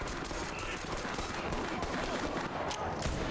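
Gunfire in the tactical shooter video game Ready or Not, with a dense, continuous rattle of rapid shots that saturates the whole stretch, loud and close, with voices mixed in underneath.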